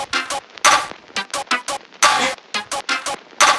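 A distorted electronic dance track, smoothed by resonance-taming processing, pulses in choppy bright bursts that sound softer and rounder, steady and close with no voice.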